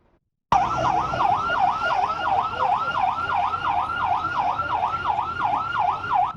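A Ghanaian police siren blares loudly in a fast, rapid up-and-down yelp, starting abruptly and continuing steadily, close by over traffic noise.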